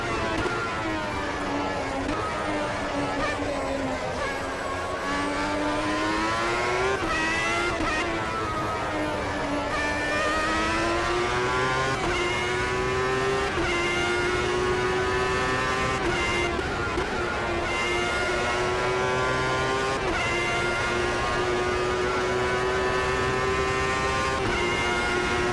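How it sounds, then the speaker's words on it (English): Formula One race cars from the 1994 Belgian round, including a McLaren Peugeot, scream through gears in Automobilista 2, a loud sustained engine whine rising and falling in pitch with shifts, steady throughout. "There is another car approaching quickly."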